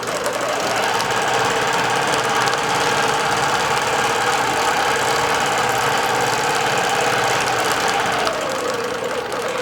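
A computerized quilting machine stitches a circular design at a steady, fast mechanical rattle. The whirring runs loud and continuous up close, then eases slightly near the end.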